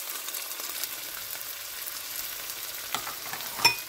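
Minced onion frying in a pan for Spanish red rice, a soft, steady close sizzle with faint stirring scrapes and a small clink near the end.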